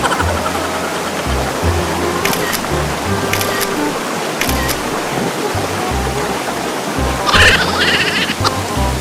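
Pulang Bato (Red Rock) waterfall in Valencia, Negros pours as a loud, steady broadband rush throughout, with low thumps and brief higher sounds breaking in now and then.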